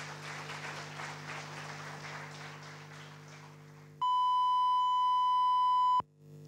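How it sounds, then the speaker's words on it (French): A contest audience at a ULB "Ma thèse en 180 secondes" event applauds steadily for a few seconds, then a loud, steady electronic beep cuts in and runs for about two seconds before stopping abruptly. "un tonnerre d'applaudissements pour Yasmina Serrouk"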